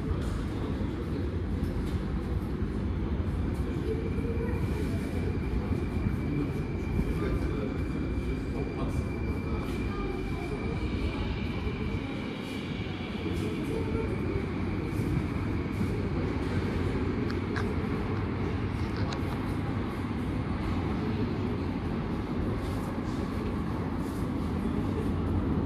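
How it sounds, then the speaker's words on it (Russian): A Moscow metro train on the Butovskaya line runs through the station, a long steady rumble of wheels and carriages with faint squeals and clicks, continuous and fairly close, with no talking. "И вон поезд."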